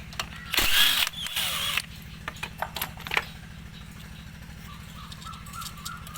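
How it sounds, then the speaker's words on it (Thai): A 10 mm nut on the cam chain tensioner of a Honda Wave 110i engine is loosened with a wrench. Brief metallic clicks and ratcheting sit over a steady low engine-shop hum, and a few faint taps follow. "ตัวนี้จะมีน็อตเบอร์สิบอยู่หนึ่งตัวนะครับ เป็นน็อตลูกกิ้งเสื้อนะครับ ทำการคลายน็อตออกมาครับ"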